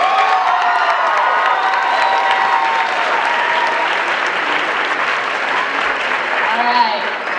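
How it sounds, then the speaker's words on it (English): A high school talent show audience claps and cheers steadily for several seconds, a loud, dense wash of applause with scattered shouts that eases off slightly toward the end. "let's give another round of applause for Abiana Wood"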